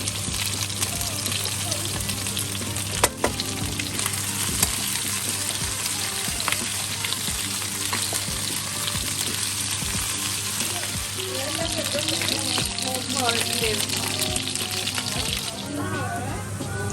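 Mushrooms frying in butter in a pan in a holiday rental kitchen in Antalya, a steady sizzle running throughout with some clatter and occasional speech over it.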